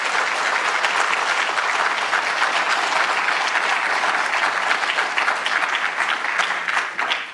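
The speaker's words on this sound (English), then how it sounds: "Can you give them a big Nebraska round of applause?" An audience at a summit breaks into sustained applause, a dense steady wash of clapping from a large crowd that fades out at the end, with no voices over it.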